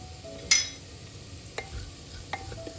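Spices including turmeric stirred in a pan for a chicken maqluba: a soft, quiet sizzle with a sharp metal scrape at the start and a couple of lighter spoon taps after.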